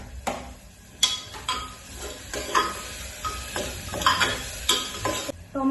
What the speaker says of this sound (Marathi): तर आता मी इथे टोमॅटो टाकते.